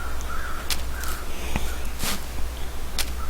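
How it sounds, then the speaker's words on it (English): Several crows caw in the wilderness of The Long Dark, harsh single calls spaced irregularly over a steady low ambient hum, moderately distant. "Yeah, I already hear the birds."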